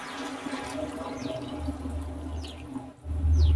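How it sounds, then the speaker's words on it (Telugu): Water is poured into a pot of vegetable pulao being cooked at home, a steady splashing trickle close by, ending with a louder low gush. "గ్లాస్కి 2 గ్లాసుల చొప్పున వాటర్ కొలుచుకొని వేసుకోవాలి"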